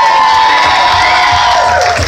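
Wedding guests at a Holiday Inn reception in New London, Connecticut applaud and cheer loudly and steadily, a dense crowd roar with whoops and scattered shouts filling the room for about two seconds.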